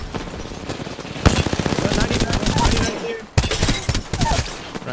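Rapid bursts of automatic gunfire and single shots from an Apex Legends firefight, loud and close, with a brief pause midway, mixed under game sound and voices talking.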